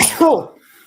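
A single sharp sneeze bursts out near the start, loud and close, then fades into quiet room tone.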